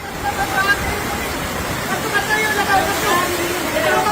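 Waist-deep floodwater rushes loudly and steadily through a barangay in Northern Samar, a dense continuous roar and splash of water with faint voices mixed in beneath it.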